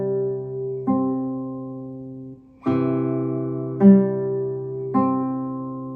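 A classical guitar plays the first measure of a Fernando Sor study as a few separate notes and chords, each struck cleanly and left to ring in a quiet, close room with no voices.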